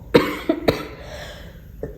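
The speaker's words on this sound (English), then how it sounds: "I'm getting over a cough." Three sharp coughs in quick succession near the start, then a fainter fourth cough after a short pause, close and clear with no talking.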